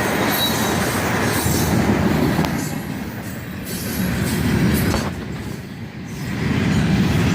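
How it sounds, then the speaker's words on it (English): A CSX freight train hauled by ET44AH and ES40DC locomotives rolls past close by with a steady rumbling roar, rail clatter and occasional wheel squeal, the loudness swelling and dipping slightly as cars go by. "The power on this train is an ET44AH and an ES40DC."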